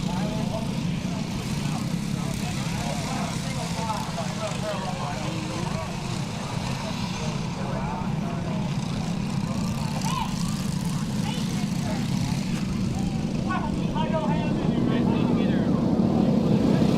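A pack of racing karts approaches at Whiteland Raceway Park. Their engines drone steadily and grow slightly louder toward the end, heard from a distance under crowd and announcer talk.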